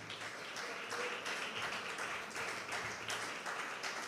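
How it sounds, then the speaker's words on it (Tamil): A church congregation claps together during a Tamil worship service, a dense steady wash of hand claps filling the space without a break. "நல்ல கைத்தட்டி ஆண்டவருக்கு நன்றி சொல்லுங்க."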